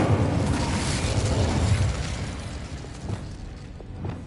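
An Incendio fire spell cast in Hogwarts Legacy on PS5 bursts with a loud, broad whooshing roar that holds for about two seconds, then fades into quieter crackling rumble, with no talk over it.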